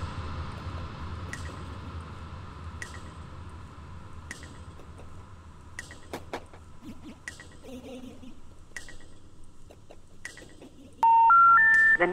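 Telephone dialing tones sound as a series of short, evenly spaced beeps under a faint background hum, followed at the end by a louder sequence of steady rising tones.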